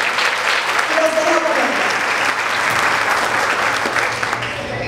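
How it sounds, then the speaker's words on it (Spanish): An audience at a fashion show graduation gala in a hotel applauds loudly and continuously, dense steady clapping filling the room with faint crowd voices mixed in. "Vamos a recibirlas a ellas con un fuerte aplauso"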